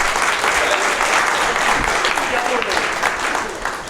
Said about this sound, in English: Let's give William a round of applause